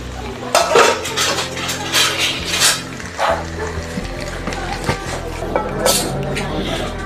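Metal pots and utensils clatter and scrape on a stove as cooked spaghetti is taken off the heat, with close, irregular clanks and knocks and a dog barking faintly at times.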